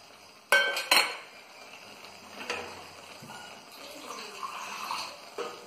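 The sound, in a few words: stirring masala with fenugreek in a kadhai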